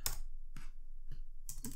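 Keys on a computer keyboard are typed in a Linux terminal, giving a handful of sharp, close clicks spaced unevenly over a couple of seconds, with the last few coming in quick succession.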